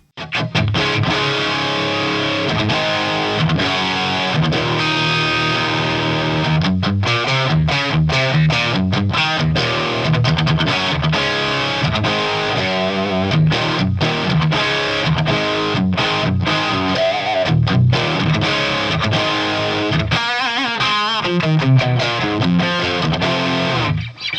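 Electric guitar played through a Lead 800 amp model in ReValver 5, set for a chuggy tone, with heavily distorted palm-muted riffing and sustained chords that stay loud and dense throughout with no talk.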